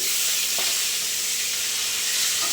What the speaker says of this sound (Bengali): দেখুন বন্ধুরা এখানে মাছ ভাজা হচ্ছে।